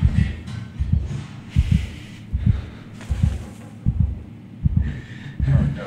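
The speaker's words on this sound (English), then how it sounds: "Heartbeat stopped for a moment there." A heartbeat from the video game SOMA thumps loudly in a steady, slow double-beat rhythm, about seven beats in a row over a low ambient hum.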